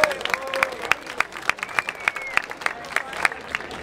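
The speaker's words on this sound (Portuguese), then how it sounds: "Uma salva de palmas pra todo mundo que fortalece o rolê de quebrada aí" A crowd claps at a freestyle rap battle final in Barueri, São Paulo. The applause comes as sparse, sharp handclaps over a murmuring background.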